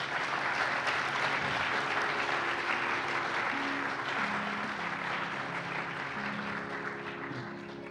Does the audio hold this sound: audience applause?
yes